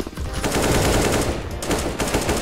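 Loud, sustained automatic gunfire in a video game, a fast continuous rattle of shots across the whole stretch with brief dips, no talk over it.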